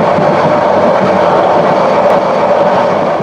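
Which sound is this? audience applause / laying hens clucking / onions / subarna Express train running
subarna Express train running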